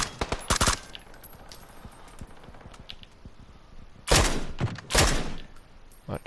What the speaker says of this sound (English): there's these handy little ranges where you can just practice firing a gun